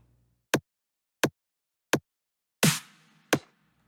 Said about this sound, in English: If we played just that one kick, it sounds like this.